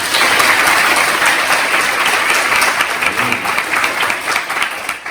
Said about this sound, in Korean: 일단 박수 좀 보내주십시오.